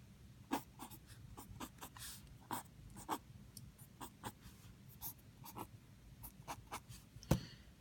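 A pen draws a physics circuit diagram, quiet scratchy strokes and taps in an irregular rhythm, close and faint with soft breathing between marks and no speech.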